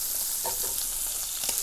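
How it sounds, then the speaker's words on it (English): Scallops sear in hot oil in a pan, giving a steady, loud sizzle and crackle throughout with small pops and spits rising over the continuous frying hiss. "the better sear you're going to get on the scallops"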